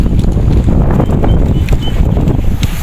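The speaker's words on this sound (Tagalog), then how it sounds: "mahangin pala ngayon" Loud, buffeting wind blasts against the microphone at the sea on a fishing trip, a heavy rumbling roar that swells and gusts without pause.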